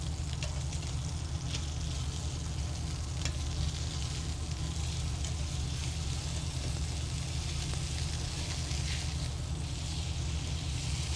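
Filet mignon steaks sizzle steadily in a hot pan just after being flipped, a constant dense crackling hiss that runs unbroken with no talking.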